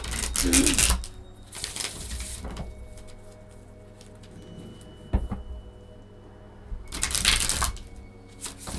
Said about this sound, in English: I'm having like a hard time shuffling this deck for some reason.